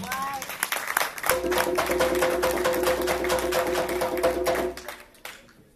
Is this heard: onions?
no